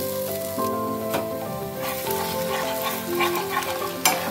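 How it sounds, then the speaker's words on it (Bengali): Egg going into a pan where carrots and potatoes are already frying for poha, a steady close sizzle with stirring clatter and a sharp crackle near the end; no talking. "গাজর আলু সব ভাজা অলরেডি হয়ে গেছে, এবার দেবো ডিম আর চিড়ে"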